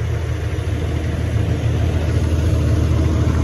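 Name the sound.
truck engine while being driven onto a ship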